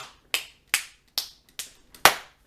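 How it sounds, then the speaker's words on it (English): Six sharp, crisp hand claps ring out one at a time in an uneven rhythm, each a dry smack close to the listener, like a crowd clap for Bayley's wrestling entrance theme. "whatever clap they do now for her new theme song"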